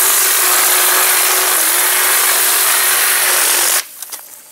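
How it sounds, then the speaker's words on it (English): A garden string trimmer cuts weeds close to the ground, a loud, steady high-pitched whine for several seconds that stops abruptly. "But with my special trimmer here, this is a much easier way to trim up some weeds."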